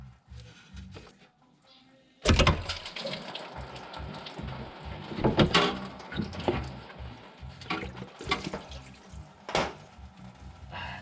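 Coolant from a BMW E90 radiator splashes and trickles out in a steady, close liquid stream that starts abruptly and continues with varying gurgles.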